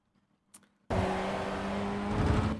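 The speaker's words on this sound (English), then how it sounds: "now I'm building back up on the throttle as I come off the apex" A Ray FF1600 race car engine in iRacing at Laguna Seca rises abruptly after near silence and holds a loud, steady buzzing drone as the throttle builds.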